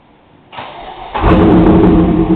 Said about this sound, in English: we'll just press the button, you can listen to her fire up